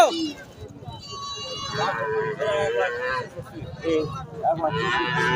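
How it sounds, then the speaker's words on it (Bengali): A pair of black Deshal breed bulls at a cattle market give deep, drawn-out moos that rise and fall over several seconds, mixed with nearby people talking. "দেশাল জাতের এক জোড়া সার গরু কালো"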